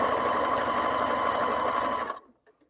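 A sewing machine runs steadily while stitching a quarter-inch seam on quilt half-square triangles, a continuous close whirring hum that stops abruptly near the end.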